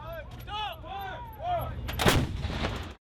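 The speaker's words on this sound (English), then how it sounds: "learning to fire heavy artillery" Heavy artillery fired by a military battery on a training range: warbling tonal calls at first, then one loud, close blast with a rumbling tail.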